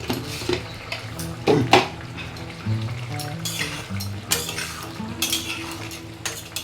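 Oyster mushroom curry being stirred in a pan, with repeated clinks and scrapes of a utensil against the metal over a soft simmering sizzle, fairly close and with no talk.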